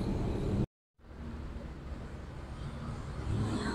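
Intercity bus pulling away from Rajekwesi bus terminal in Bojonegoro, a steady engine drone and whir rising gently after a brief silent gap, fairly close with no talk.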